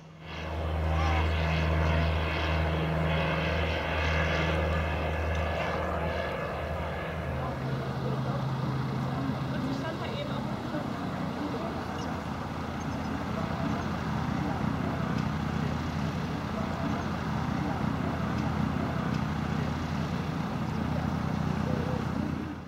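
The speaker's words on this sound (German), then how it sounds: "Der Hubschrauber hebt ab." A loud, steady rotor and engine roar swells and holds, the pitch shifting as a helicopter lifts off, continuous throughout without pause.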